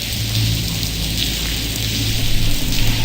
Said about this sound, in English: It's pouring cats and dogs out here.